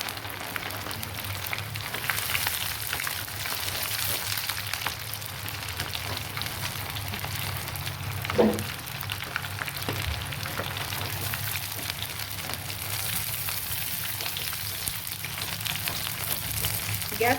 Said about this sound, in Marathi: 5 ते 10 मिनिट मस्त त्याला तळून घेऊ छान खरपूस आणि एकदम कडक होईपर्यंत